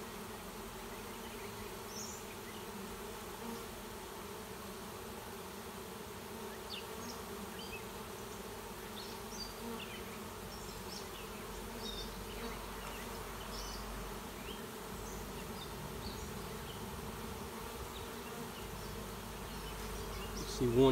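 Honeybees drone at a hive during a late-season swarm, a steady, unbroken buzzing hum that holds at an even level throughout.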